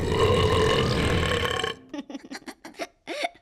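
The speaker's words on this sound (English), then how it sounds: "That was the biggest burp ever, even for a big baby." A big cartoon baby lets out a long, loud, deep burp that rumbles for well over a second, followed by a few short gurgling vocal bursts.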